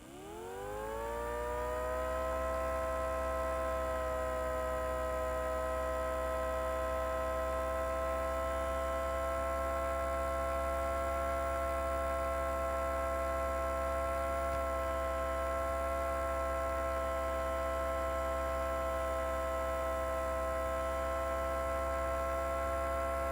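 An ACA Hurricane siren, newly built, winds up over the first couple of seconds and then holds one loud, steady tone with strong harmonics and an underlying low hum, sounding alone for over twenty seconds.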